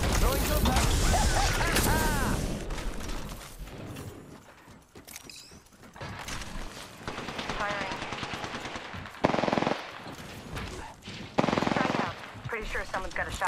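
Apex Legends gunfire: rapid automatic bursts rattle alongside sharp single shots, mechanical clicks and reload noises, with game voices talking in between the bursts.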